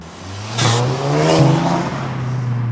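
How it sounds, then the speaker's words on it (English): An Audi TT fitted with an induction kit, race chip and custom exhaust revs hard, its engine note rising with a whooshing intake roar, close and loud with no talk over it. "when you press the gas really hard, it does that induction noise."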